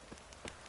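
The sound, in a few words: rain downpour in video game The Witcher 3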